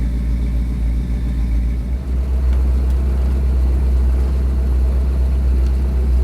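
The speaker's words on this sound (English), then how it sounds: "we'll let the car warm up here for a minute and we'll buzz out the gravel roads" A wagon rolls along gravel roads on a cold first drive of the year, its engine a steady low rumble under constant road and tyre noise, loud and continuous throughout.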